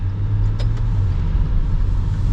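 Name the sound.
Maserati Levante GranLusso engine while short shifting with paddles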